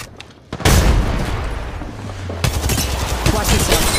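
A frag grenade goes off in the mobile shooter Apex Legends Mobile, a sudden loud boom at about half a second, followed by sustained rumbling and dense gunfire crackle through the rest.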